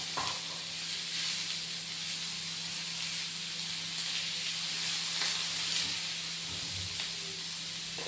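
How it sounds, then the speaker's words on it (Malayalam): Ginger, green chili, curry leaves and capsicum are lightly sautéed in a pan, giving a steady, even hiss and sizzle that carries on without pause at a moderate level, close by and with no talking over it. "ഒന്ന് ലൈറ്റാ വഴഞ്ഞാൽ മതി കേട്ടോ"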